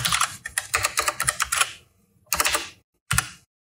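Fast bursts of keystrokes on a computer keyboard, a run of close, crisp clicks followed by two short separate flurries with silence between, as a search term is typed into the Windows 11 Start menu.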